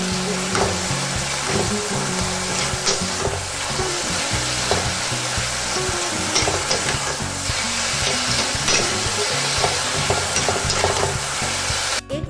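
Sweet pumpkin cooks on a high gas flame while being mashed into a paste, a loud, dense sizzle with repeated scraping and stirring strokes, steady and close.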